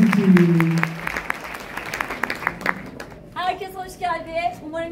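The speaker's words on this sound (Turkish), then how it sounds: "Kocaman alkışlar doğaçlama tiyatro üzerimiz için" An audience at a teachers' symposium applauds an improvisational theatre group, a fading patter of clapping after a spoken introduction, followed by someone talking over the last scattered claps.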